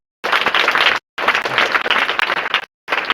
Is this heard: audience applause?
yes